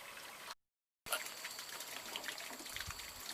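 Well water pumped by a solar pump from a deep borehole beside rice paddies in Thailand runs steadily into a jar, a continuous close trickling and splashing after a brief silent gap near the start.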